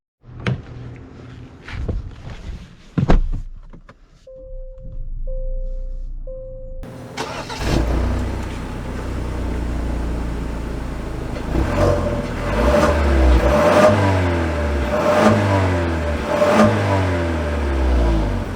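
A 2021 Genesis G80 Advanced starts up, with a few short beeps and clicks before the engine catches. It then pulls away and accelerates with a steady mid-pitched engine note and rising road noise, loud and close.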